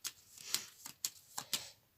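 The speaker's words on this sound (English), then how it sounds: "This goes back, shuffles back in the deck." Yu-Gi-Oh cards being shuffled back into a deck: a series of about six soft, crisp riffling snaps in quick irregular rhythm, close and quiet, with no talk.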